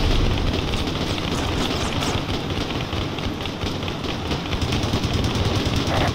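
Heavy gunfire rages in the video game ACAH, a dense, continuous roar of rapid automatic shots blending into a loud, unbroken wall of noise with no talking.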